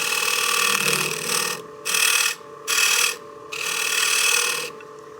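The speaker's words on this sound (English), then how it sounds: "So I started getting a little bit of chatter there, and I was taking a 1/4 inch wide pass." A skew chisel taking a heavy quarter-inch pass on spinning wood on a lathe for a cake stand, chattering as a loud, buzzing rattle in several bursts separated by brief quieter gaps.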